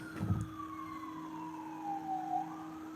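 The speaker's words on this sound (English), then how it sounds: "oh, ambulance." An ambulance siren passing at a distance, its wailing tone slowly sweeping downward and then rising again, faint and steady above a low background hum.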